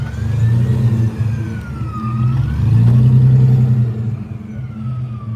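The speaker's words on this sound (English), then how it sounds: "It's got a supercharger" A supercharged 4.3-litre exotic car engine revs loudly at a Las Vegas car meet, its deep rumble rising and falling with one long sustained climb, alongside a faint high whine.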